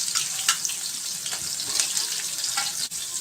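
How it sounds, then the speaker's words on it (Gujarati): Steady crackling sizzle of cumin seeds frying in hot oil, continuous and close, with a few sharper pops scattered throughout. "જીરું બરાબર તતડી જાય"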